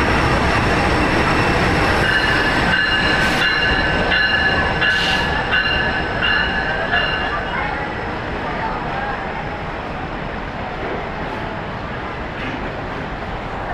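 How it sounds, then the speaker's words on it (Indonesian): Taksaka passenger train on rails in Indonesia, heard from aboard: a loud, continuous rumble of wheels and carriage with high metallic squeals and tones rising over it, steady throughout. "Nah, ini ada lokomotifnya Taksaka Lansir."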